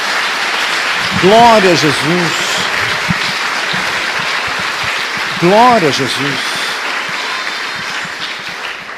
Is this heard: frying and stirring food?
no